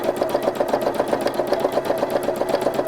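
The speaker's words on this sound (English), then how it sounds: "So I'm just steadily sewing" Sewing machine stitching fabric side to side, a steady rapid mechanical chatter of the needle running continuously and close by without pause.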